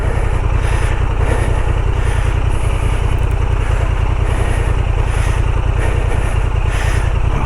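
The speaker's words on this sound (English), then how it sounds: "now I'm using only the idle. Only the idle it's used to advance." Honda Transalp 750 motorcycle running at a steady low idle while crawling off-road, a continuous close engine rumble with a fast even pulse and no revving throughout.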